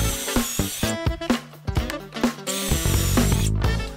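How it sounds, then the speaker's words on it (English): A power drill bores holes in wooden drawer parts in a close, loud run of short whirring bursts separated by brief pauses, with a longer steady spin toward the end. "That way I can drill a hole, move over, drill a hole, flip it, do the same,"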